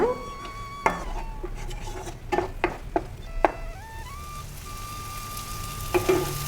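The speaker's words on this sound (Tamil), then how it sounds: "இப்போ இது நல்லா தக்காளியோட பச்சை வாசனை போகிற வரைக்கும் நல்லா வதக்கிக்கலாம்." Tomato paste and masala sautéing on a medium flame for tomato rice, a soft continuous sizzle broken by occasional spatula taps and scrapes against the pan, close by, with a faint steady whine in the background.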